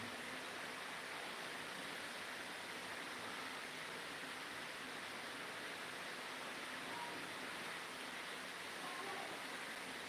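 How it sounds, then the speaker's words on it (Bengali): Torrential rain comes down in a constant broadband wash, even and unbroken throughout, fairly faint and distant-sounding, with no voices. "রিমঝিম বৃষ্টি হচ্ছে একদম মুসলধারে বৃষ্টি"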